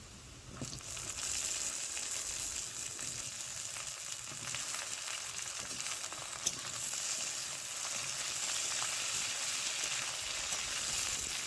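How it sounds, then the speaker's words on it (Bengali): Steady, dense sizzling of potatoes and okra frying in hot oil, loud and close, a continuous crackle with no voices. "আলু আমার ভাজা হয়ে গেছে এখন দিয়ে দেবো কেটে রাখা ভেন্ডি"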